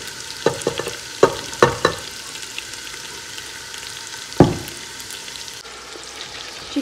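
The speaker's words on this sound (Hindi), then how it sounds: "चिकन को हम अच्छे तरीके से अब भून लेंगे।" Chicken browns in a pan with ginger-garlic paste, a steady close sizzle underneath a few sharp clanks and scrapes of a spoon stirring against the pan, with no voices.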